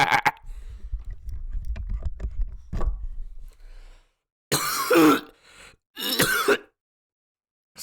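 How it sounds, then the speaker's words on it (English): A smoker's harsh, phlegmy cough and throat clearing: a rough low rasp for several seconds, a pause, then two louder, sharper hacking bursts close to the mic, with no talk. "Sorry, smoker's cough."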